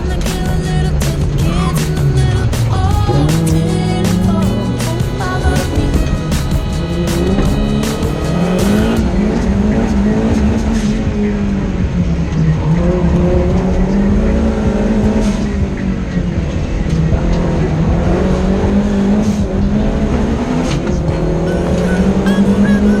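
A car lapping Blyton Park rallycross circuit, its engine roaring loud and continuous from onboard, pitch rising and falling through gear changes, with tire squeal in the corners.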